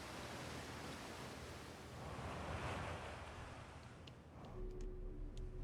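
A video game waterfall roaring as a steady, broad rushing wash of water, loud and constant throughout with slight swells, no talk over it.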